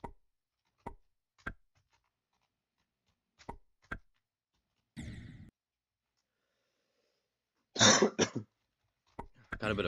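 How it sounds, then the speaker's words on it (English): A man coughs and clears his throat several times at close range, short sharp bursts spaced through near-silence, with clicks and brief vocal sounds in between. "Got a bit of a cough, sorry."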